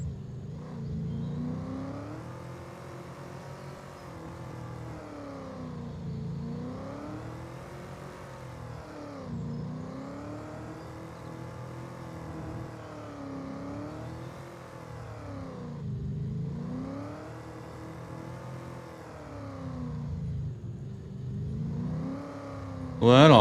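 Car engine in Farming Simulator 25 idling and revving in repeated rising-and-falling surges, a steady mid-loud drone that swells again near the end.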